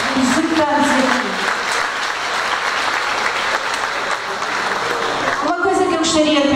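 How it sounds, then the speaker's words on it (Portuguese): Audience applause for a band's anniversary performance, loud and sustained dense clapping from a crowd, with a voice speaking over it at the start and again as it fades near the end. "uma grande salva de palmas novamente para todos os executantes aqui"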